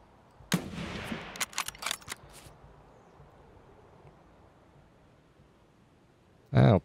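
Rifle fire from a Mosin in the video game Escape from Tarkov (SPT). A sharp report opens a burst of several quick impact cracks, then a quiet stretch, then another loud shot at the very end.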